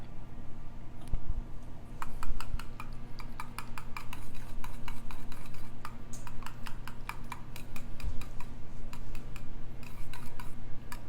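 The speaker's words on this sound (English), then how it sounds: "I'm going to use a whisk to kind of mix this together" A whisk stirs a small can of Carnation evaporated milk into a vegetable casserole mixture in a home kitchen, giving rapid, steady metallic clinks and scrapes against the bowl over a low background hum, close and continuous without speech.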